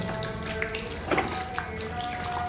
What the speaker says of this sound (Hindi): इसमें जो है ना अब साथ साथ ठंडा पानी डालते जाएंगे